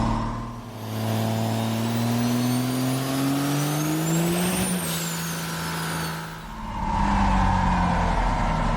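A truck with a 6.7 Cummins diesel engine launches off the brake and accelerates hard. Its loud engine tone climbs steadily, eases briefly, then surges again close by.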